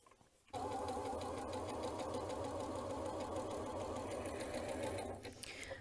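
A Janome C30 sewing machine stitching satin scallops along a length of fabric, running in a loud, steady, rapid mechanical whir close by from start to near the end, with no talk.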